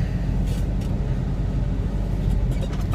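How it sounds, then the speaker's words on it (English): Road train truck reversing onto its second and third trailers at the Swagman Roadhouse in Mount Magnet, a steady, heavy, close diesel rumble with no voices. "I'm just backing onto the second and third trailers now."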